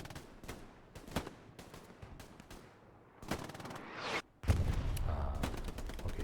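Machine gun fire in the WWII shooter Hell Let Loose, Omaha map: sharp bursts of automatic fire and scattered gunshots crack across a busy battlefield, with a heavier, denser burst of fire near the end.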